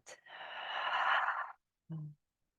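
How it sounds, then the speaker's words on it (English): A slow, deep inhale through the nose followed by a long, breathy exhale, then a short voiced sigh, close and alone in a quiet room during a new moon meditation. "Let's take a breath in and out"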